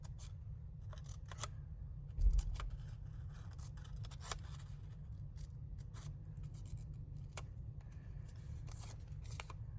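Scissors snipping paper pieces in a zigzag for a crayon art project: a series of quick, crisp cuts at close range over a low steady hum, with no talking.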